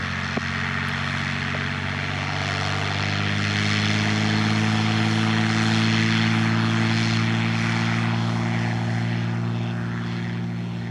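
A propeller airplane takes off from runway 07 at an airport in Jamaica on a wet day, its steady engine drone loud and close throughout with a sustained low hum and rising broadband roar.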